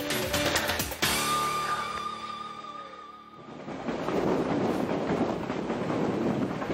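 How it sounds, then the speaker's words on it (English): A passenger train rides through the Peruvian mountains toward Machu Picchu, its steady rumble and rattling carriage noise near and continuous, with wheel clatter and a sharp clank, then rougher wind-buffeted rolling noise. "This has turned out to be a more interesting train ride than expected."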